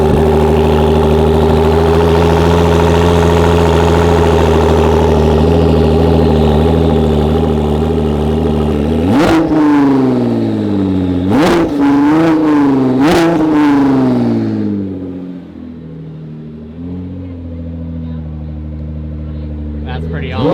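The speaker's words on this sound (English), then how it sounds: "Cold start. Cold start. Ford GT Mark II." A Ford GT Mark II race car fires up from cold with a loud, steady, rumbling idle, then blips its throttle in several sharp, rising revs before dropping back to a lower, quieter idle. Voices talk faintly over the engine.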